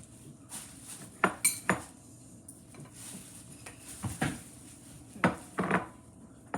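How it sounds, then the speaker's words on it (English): Rice is scooped onto plates with a few sharp clinks of a spoon against dishes, clustered in two short bursts over a quiet background, close by and without speech. "let's get you guys each a scoop of the rice"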